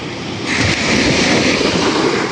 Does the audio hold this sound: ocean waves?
yes